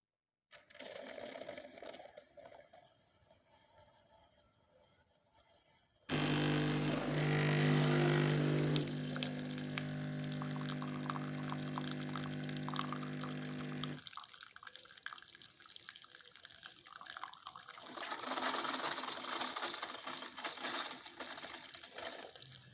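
A Tassimo pod coffee machine brews a cappuccino, starting with a quiet hiss, then a loud steady pumping drone for several seconds before settling into gurgling, hissing flow and sputtering liquid; close and continuous with no talking.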